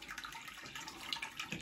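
Hot tap water running into a bathroom sink to rinse after a wet shave, a faint, soft, continuous trickle and splash heard close by with no one speaking.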